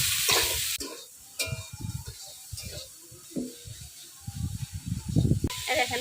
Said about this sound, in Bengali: দেখেন ফুলকপি অর্ধেক ভাজা হয়ে গেছে